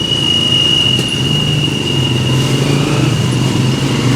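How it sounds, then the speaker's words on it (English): Heavy traffic rumbles steadily along a busy street, with a constant low drone of engines and a thin high whine running through it, loud and continuous with no talking. "this is the one street with all the traffic. Look at all this traffic coming through."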